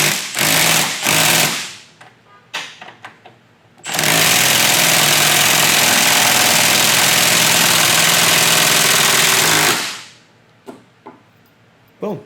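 A Milwaukee M12 Fuel 3/8-inch stubby impact wrench (2554-20) snaps a bolt tight, a few short bursts followed by a loud, sustained hammering rattle lasting about six seconds, then brief taps and quiet.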